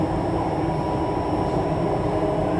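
Inside the end car of a Jakarta MRT train rounding a curve, a loud, steady rumbling roar of wheels and motors fills the carriage without a break.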